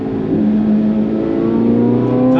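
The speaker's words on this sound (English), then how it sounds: "Man, oh man, that exhaust with the Venturi airbox." A modified Chevrolet C8 Corvette Z06 with an aftermarket exhaust and Venturi airbox revs hard, heard loud and close from inside the car, the engine note rising steadily through a short pull.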